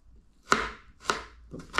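A knife slices through ginger on a cutting board in a kitchen, three crisp, close chops at an even pace with no voices.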